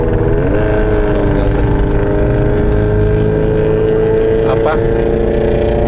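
A modified car's engine drones steadily under high revs, a sustained loud tone with slight shifts in pitch, while people talk over it throughout.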